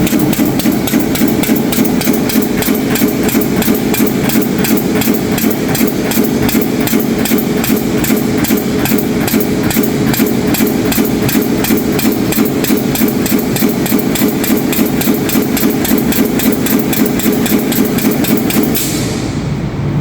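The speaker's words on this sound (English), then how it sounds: "I am going to adjust this knob and show you how the stroke is getting slowed down" Pneumatic cylinder on a mechatronics lab rig, its stroke slowed by turning a flow control valve knob, giving a loud continuous rapid mechanical pulsing that runs steadily throughout.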